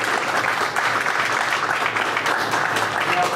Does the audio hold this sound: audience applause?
yes